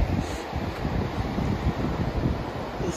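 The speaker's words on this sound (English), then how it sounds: "And you hear this ocean water all night." Ocean surf washes onto a beach at a state park campground, a steady low roar mixed with wind noise on the microphone, continuous and moderately loud with no voices.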